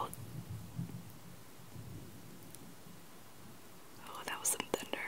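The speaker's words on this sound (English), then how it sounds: "oh, that was some thunder." Thunder from a rainstorm rolls as a low, distant rumble for a couple of seconds, then fades under soft rain before a person begins whispering close up.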